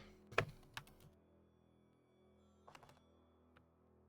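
Typing on a computer keyboard, a few faint scattered key clicks in two short bursts with quiet gaps between, no talk.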